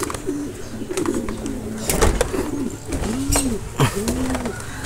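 Racing pigeons arriving at the loft during a semi-final race, cooing repeatedly and close by, with wing flutters and scattered background noise.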